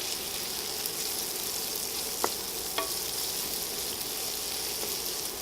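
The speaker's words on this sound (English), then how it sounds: "now I'm going to go ahead and add our onions" Onions sizzling steadily in a frying pan while an omelette is being prepared, a constant close hiss with a couple of faint clicks from stirring, no talking.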